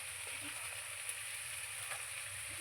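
Cashew paneer with salt, sugar, turmeric and spices sizzling and frying steadily in a pan while being stirred, a continuous close hiss with faint scraping.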